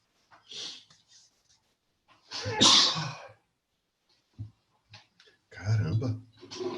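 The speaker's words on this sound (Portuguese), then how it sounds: "Deixa eu espirrar de novo" A person sneezes loudly once, a sharp burst near the middle, with faint breathy sounds before and a brief throat noise and shuffling afterward; no words are spoken.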